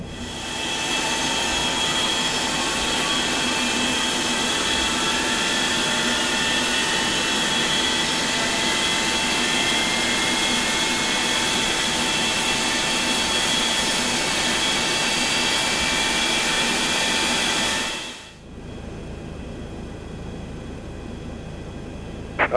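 Simulated Boeing 737-200 jet engine spooling up in X-Plane 11, a loud steady roar with a sustained whine that holds evenly for about eighteen seconds, then cuts off abruptly to a quieter hum.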